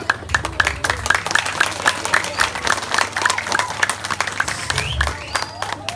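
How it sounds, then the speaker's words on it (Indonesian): Applause from a live audience at a Balinese comedy show, a steady wash of many hands clapping throughout with a low hum underneath. "tepuk tangan."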